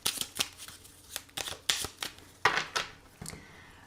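Tarot cards being shuffled and cut close up: a quick series of crisp riffling and slapping bursts, a dozen or so short rustles spaced irregularly, fairly quiet in a still room.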